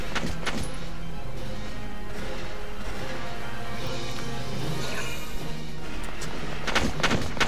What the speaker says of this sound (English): Return fire.